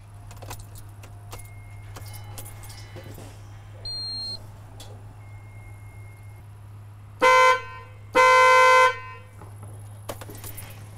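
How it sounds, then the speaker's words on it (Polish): A car horn sounds in two short loud blasts, the second held longer, after the fuses are replaced. Keys jangle and soft clicks come first, over a steady low hum and faint talk. "teraz wypada sprawdzić, czy klakson i zegary zaczną działać."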